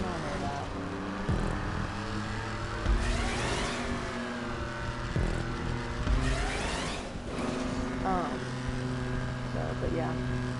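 Race cars in GTA 5 rev and accelerate, their engines rising and falling in pitch with gear changes and passing whooshes, while a voice talks over the action.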